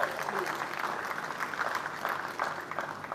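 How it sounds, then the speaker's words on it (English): An audience at an African aquaculture conference gives a round of applause for a sponsor, dense even clapping from a room full of people that lasts the whole few seconds, fairly close and moderately loud. "Let's give Ala Aqua a round of applause, please."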